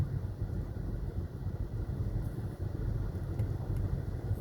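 A Jeep driving slowly along a snowy road after a blizzard gives a steady, close low rumble of engine and tires that continues without a break. No one speaks.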